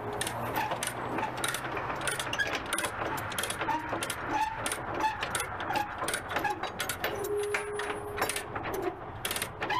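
A ratchet strap is being tightened while a car is loaded onto a transport. Clicking and ratcheting bursts repeat irregularly at a moderate distance, mixed with metallic clinks and rattles, and there is no talk.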